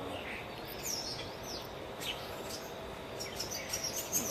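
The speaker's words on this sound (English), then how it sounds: "Some of these birds around here are just weird." Faint birds chirp and call now and then over a soft outdoor hiss, with thin high tweets scattered through the quiet background.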